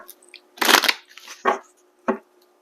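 Stay Inspired Oracle cards by Sister Moon Tarot being shuffled up close: one long rustling riffle, then two shorter bursts of card shuffling in a quiet room.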